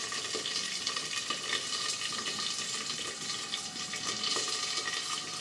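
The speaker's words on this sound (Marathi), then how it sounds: "बारीक होतं थोडं भाजून घ्यायचं" Ingredients dry-roasting in a covered pan for a fasting-day chilli thecha, giving a continuous close sizzle with faint crackles and no voices.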